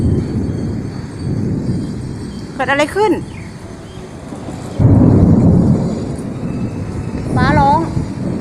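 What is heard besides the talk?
thunder and strong wind of approaching storm in Pattaya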